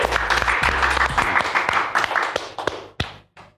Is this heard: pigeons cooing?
no